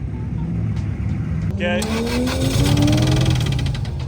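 A turbocharged Toyota AE86 running a 3SGE BEAMS engine knocks as it idles roughly, with a steady mechanical rattle over the motor's drone and a brief spoken word partway through.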